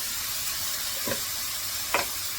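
Onions and tomatoes with salt sauté in hot oil in a home kitchen, giving a faint, steady sizzling hiss broken by two brief scraping stirs of a spoon.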